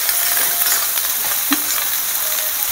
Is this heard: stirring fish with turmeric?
yes